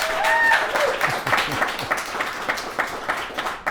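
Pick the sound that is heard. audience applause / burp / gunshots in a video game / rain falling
audience applause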